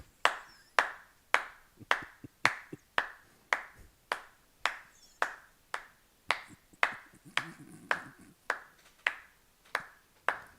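A single pair of hands clapping slowly and evenly, about fifteen sharp, close claps spaced under a second apart for a new role announced on a live show, with faint background sound between claps.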